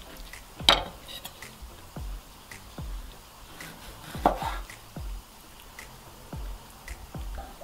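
Knife cutting raw fish into portions on a board, a few sharp chops spaced irregularly with soft kitchen handling sounds between them, close and moderately quiet.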